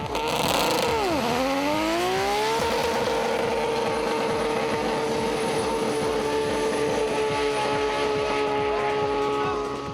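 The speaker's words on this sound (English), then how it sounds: "Theo then hit the track for the power skids" A turbocharged car does power skids down a race track's main straight, its engine roaring loud and sustained as the pitch dips and then climbs before holding a steady high drone, with tyre and crowd noise beneath.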